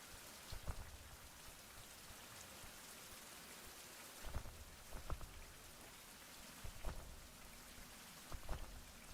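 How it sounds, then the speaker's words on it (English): Steady rain falls in a video game, a dense even patter with a few louder splashes or distant rumbles rising at intervals, with no voices. "And it's raining."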